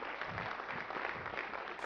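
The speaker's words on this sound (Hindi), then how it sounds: "मैं जोरदार तालियों से चाहूंगी आप उनका स्वागत करें" Audience clapping to welcome a state cabinet minister onstage at an education talk show event, a steady, fairly faint wash of applause from a crowd that holds evenly throughout.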